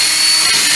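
Cordless drill whining steadily at high speed while pre-drilling screw holes during a chicken coop build in a barn, loud and close for a short burst, no talk.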